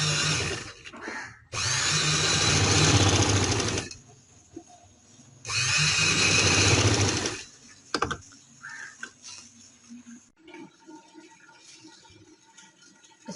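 Sewing machine stitching a shoulder seam on a garment, two loud sustained bursts of fast needle whirring separated by pauses, followed by faint handling clicks and rustling.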